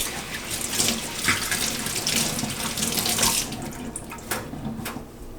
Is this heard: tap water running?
yes